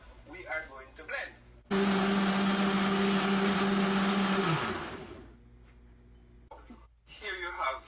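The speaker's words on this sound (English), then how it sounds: "having added all this to the blender, we are going to blend." A countertop blender whirs loudly for about three seconds blending a honey-based natural antibiotic remedy, then spins down, with someone talking before and after.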